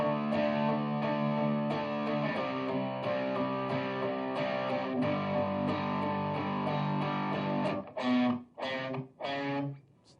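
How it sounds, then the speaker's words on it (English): Electric guitar run through distortion, sustained overdriven chords ringing for about eight seconds, then a few short, choppy chord stabs near the end, loud and alone. "Let's turn on a little distortion and see what it sounds like."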